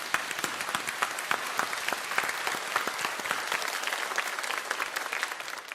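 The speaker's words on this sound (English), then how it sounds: "A big applause to the guest team," Warm applause from a debate audience welcoming an Australian panel, many hands clapping in a brisk, steady patter at moderate volume throughout, with no talking over it.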